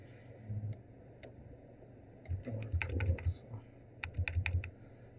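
Computer keyboard keys pressed in short bursts of crisp clicks, a couple of isolated taps followed by two quick clusters, close and fairly quiet against a low background hum.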